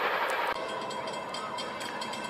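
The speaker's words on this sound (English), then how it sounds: "Here comes another train." A CSX freight train passes on the railway with steady rolling wheel noise and a faint horn, fairly near, and no voices.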